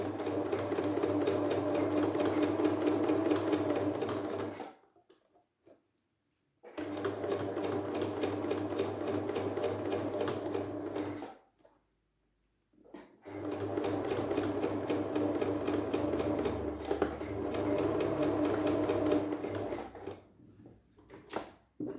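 A sewing machine stitches fabric for an anti-fog face mask in three long, steady runs of whirring, each broken by a pause of silence while the needle stays down and the fabric is turned.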